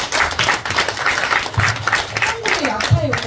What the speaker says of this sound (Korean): 박수 치세요.